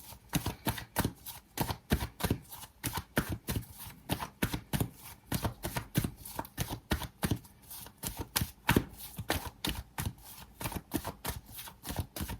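Tarot cards being shuffled and handled close up, a rapid continuous run of crisp riffling snaps in regular bursts, fairly loud, no talking.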